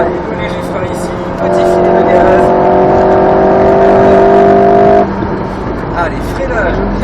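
Alpine A110 S sports car engine running on light throttle on a racing circuit, a steady sustained drone with tonal harmonics that swells for a few seconds then eases off, with speech over it.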